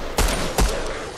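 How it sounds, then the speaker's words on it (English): Gunfire in Fortnite Chapter 3 Season 3, aimed at the character Jonesy: two loud, close shots about half a second apart, with no talk over them. "I think they're shooting Jonesy"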